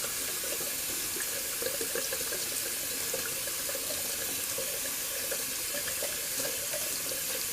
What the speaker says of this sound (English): I'm running the water there, just rinsing out my brush real quick